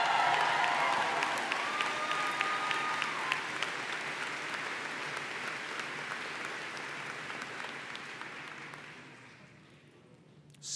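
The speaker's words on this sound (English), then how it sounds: "Can we give her one more round of applause?" Sustained applause from a large university commencement audience at the Denison Class of 2023 ceremony, a dense steady wash of clapping that holds for several seconds and then gradually thins and fades toward the end.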